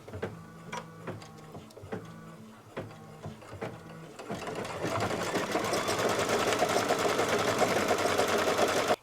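An embroidery machine runs a tack down stitch around the top of a potholder, first in short rhythmic bursts of stitching with brief pauses, then settling into a steady, loud, continuous mechanical whir up close.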